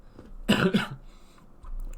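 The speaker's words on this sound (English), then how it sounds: "I got a pretty bad cough" A single short, harsh cough close to the mic, a couple of quick bursts, followed by quiet room noise.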